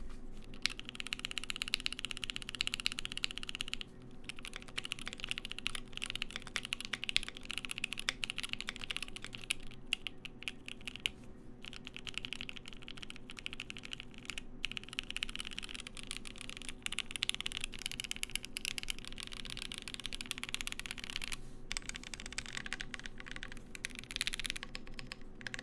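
Steady typing on a Voice65% mechanical keyboard, a dense run of clacky keystrokes with a few brief pauses, heard up close and alone.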